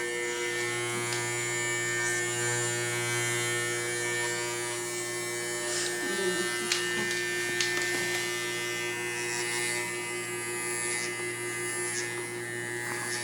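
Electric hair clippers fitted with a 1-inch guard buzz steadily and close while cutting hair during barber training, a continuous electric hum with slight shifts as the blade moves through the hair.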